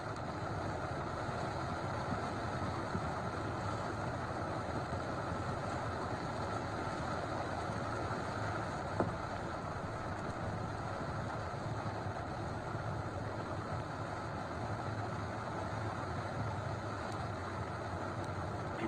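NASA SLS rocket core stage engines roar steadily during a hot fire test, a constant broadband rumble heard from a distance at moderate level with no break for the whole stretch.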